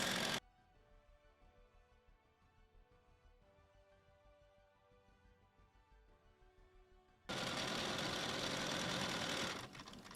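Sewing machine stitching simple wavy quilting lines across a fabric book cover, a soft, fast, even mechanical whir running steadily for several seconds between louder, harsher bursts at the start and end.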